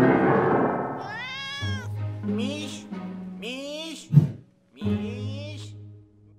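A cat meows several times in a row, close and clear, each call rising and falling with short pauses between, with a thud midway.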